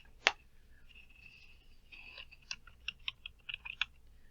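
Password being typed on a computer keyboard, a quiet run of light, irregular key clicks with short pauses, heard close and alone.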